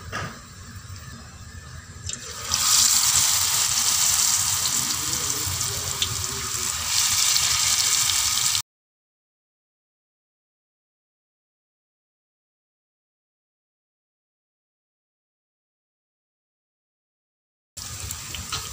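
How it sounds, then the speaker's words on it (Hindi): Potato lachha pakoras go into hot oil, and a bright sizzling hiss swells and holds for several seconds before the sound cuts to silence and then briefly returns, with no speech. "ऑयल मैंने गरम कर लिया है, अब हम पकोड़े डालेंगे इसमें"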